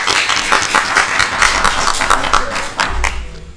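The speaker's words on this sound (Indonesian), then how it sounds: "Tepuk tangan dulu untuk kalian" Sponsors at a talk event are greeted by a burst of audience clapping, a steady patter of many hands at close range that continues for a few seconds.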